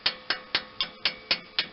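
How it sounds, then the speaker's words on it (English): Light hammer tapping on a seized valve of a Briggs and Stratton 16.50 engine on an Ariens 30-inch snowblower: seven sharp metallic taps in a steady, even rhythm, close and alone. "just take a light hammer and give it a tap and just see"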